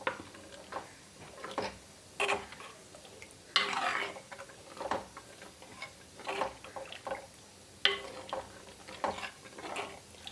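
Mashed curd being stirred into a pulissery made with ivy gourd (thondanmulaku), cooking in a pot: irregular scraping and clinking strokes of a spoon, close and fairly quiet, with no talking.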